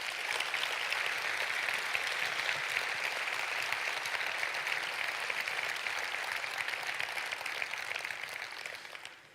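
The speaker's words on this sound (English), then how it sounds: "let's give all the wonderful presenters we've had so far a great applause." A large audience at a convention presentation applauds in a dense, steady wash of clapping that holds for several seconds before tapering off at the end.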